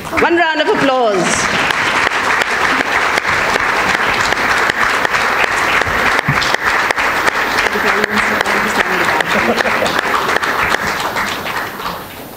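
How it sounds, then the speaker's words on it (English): Loud, dense audience applause for an award winner at a leadership conclave, sustained clapping from a crowd with a voice speaking briefly at the start and faint talk and cheers mixed in throughout. "One round of applause."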